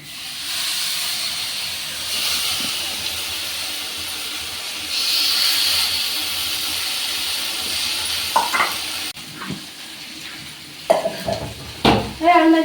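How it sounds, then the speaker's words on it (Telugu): Tamarind juice hits a hot pan of egg curry with spices, raising a strong, steady sizzling hiss for several seconds before it settles quieter while people talk nearby. "ఇప్పుడు చింతపండు పులుసు వేస్తున్నా."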